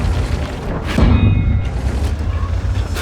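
A tank cannon shot from an Object 907 in World of Tanks, one loud deep boom near the start of the second, followed by rumbling engine and battle noise.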